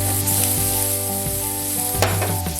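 Tomatoes with salt and spices sizzle steadily in a pan for a North Karnataka roasted brinjal bharta, a constant close frying hiss with a steady low hum beneath and a brief sharper burst of sizzle near the end.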